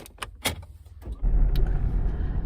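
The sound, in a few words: car driving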